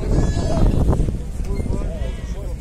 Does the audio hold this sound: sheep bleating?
yes